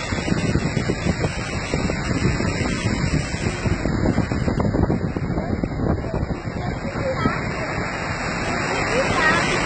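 Floodwater rushes loudly during heavy rain in Campina Grande, Paraíba, making a dense, continuous roar with wind buffeting, while voices talk over it.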